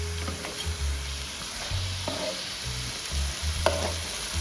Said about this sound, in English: the omelette is cooking here